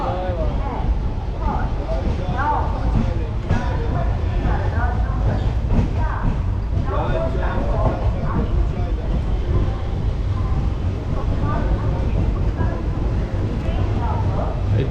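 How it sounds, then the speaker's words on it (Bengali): The 13187 Maa Tara Express pulls into a platform at Naihati station with a heavy, continuous rumble and rattle of rolling stock, while voices are heard over the train noise. "নম্বর প্ল্যাটফর্মে ঢুকছে আমাদের নৈহাটি মাতারা এক্সপ্রেস"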